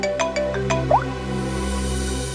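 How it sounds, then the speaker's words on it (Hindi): A short electronic phone ringtone chirps a few quick notes, followed by a sliding blip, then fades into a steady hum. "डीसीपी चित्रों ने मुझे क्यों फोन करा?"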